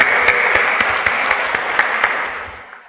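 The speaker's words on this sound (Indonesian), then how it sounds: "Tepuk tangan untuk Anda semuanya." Graduation ceremony crowd applauding the graduates, a loud, dense roll of clapping with a few crisp distinct claps on top, fading out toward the end.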